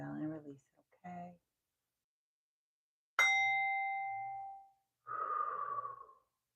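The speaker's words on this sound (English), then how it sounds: "we're going to ring the bell and release it" A mindfulness reminder bell is struck once, giving a clear metallic ding that rings out and fades over about a second and a half. Soft voiced breaths and sighs come just before and after it.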